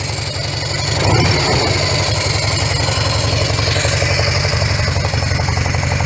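A motorcycle with a freshly repacked muffler idles steadily close by, its exhaust a low, even, mellow throb that holds unchanged throughout with no talk over it.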